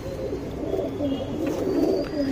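A tournament racing pigeon coos softly in a low, throaty, repeating murmur, close by, over steady background noise.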